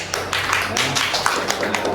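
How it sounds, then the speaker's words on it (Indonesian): Classroom of students applauding together, a steady patter of brisk rhythmic claps with a few voices mixed in underneath. "Tepuk tangan yang meriah"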